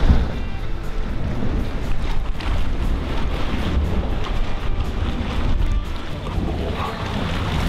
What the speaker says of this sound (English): the water splashed out because the gases are exploding in there, and it splashes out the water